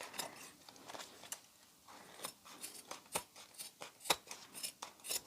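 Scissors snipping through craft material to cut it down to size, making a string of quick, close, fairly quiet cuts in an irregular rhythm that come faster toward the end, with no talk.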